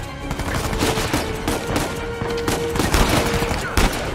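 Rapid gunfire rattles in the video game Uncharted 4, with loud, close bursts of shots packed densely through the whole stretch.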